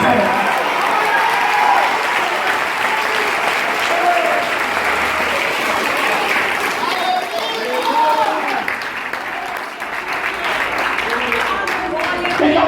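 A church congregation at Plenitude de Cristo in Osasco applauds steadily for about twelve seconds, a dense, even wash of clapping with a voice speaking over it.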